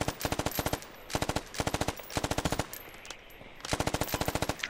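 Automatic gunfire from the military shooter game Squad on the Panjwai Afghanistan map: repeated rapid bursts of close, loud shots separated by short pauses, with no talking.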